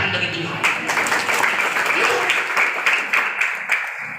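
A church congregation claps together in a short, lively round of applause lasting a few seconds, fairly close and full, with some voices mixed in.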